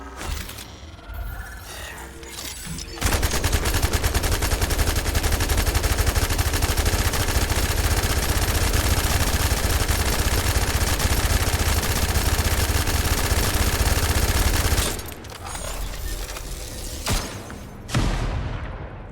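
Sustained automatic fire from the Enduring Legacy weapon in the shooter game The First Descendant, a dense, loud, unbroken burst lasting about twelve seconds, with quieter game sounds before and after.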